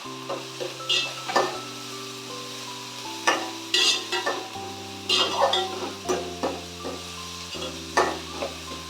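Tomatoes, onions and crushed ginger and garlic sauté in a pan with a steady sizzle, while a spoon scrapes and clinks against the metal in irregular strokes, close and clear.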